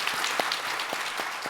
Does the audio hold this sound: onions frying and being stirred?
no